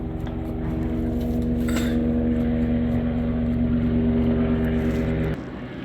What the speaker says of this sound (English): thank you for the helicopter flyover